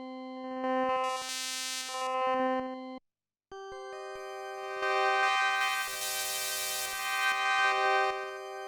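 PPG 360 Wavecomputer playing wavetable 25: two sustained synth notes with bright, shifting overtones, separated by a brief silence, the second note richer and swelling in brightness before settling.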